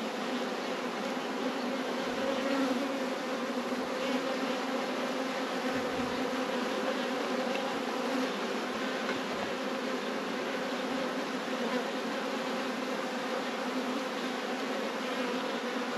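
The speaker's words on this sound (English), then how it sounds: "No doubt the bees are working really hard." Honey bees buzzing around hives during a hawthorn honey flow, a dense continuous hum from many insects, steady and fairly loud with no talking.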